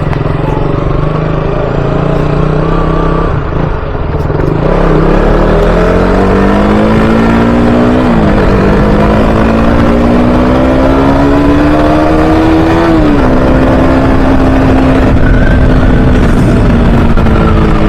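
Motorbike engine droning steadily while riding, its pitch climbing and shifting through gear changes over a continuous, loud road roar.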